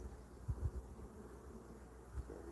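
Honeybees buzz faintly around an open hive with young bees on the frames, a soft continuous low drone with a few closer passing hums, quiet and without voices.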